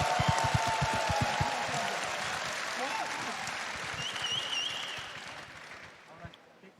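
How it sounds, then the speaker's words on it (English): Applause and cheering fill the arena for the Dota 2 International 11 champions in Singapore, a dense roar of clapping that gradually fades, with voices talking over it. "Can we get a massive cheer and a round of applause for Tundra"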